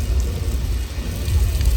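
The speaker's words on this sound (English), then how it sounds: "One thing they try to do is make the raindrops really big so it shows up better on film." Artificial rain from sprinklers falls on a studio backlot set at Universal Studios Hollywood, a steady, dense hiss of large drops hitting the ground, fairly loud and continuous with no talk.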